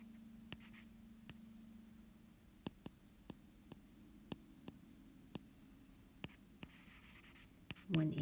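A pen or pencil scratches out a math integral by hand in a quiet room, giving sharp little taps and strokes at irregular intervals over a faint low hum.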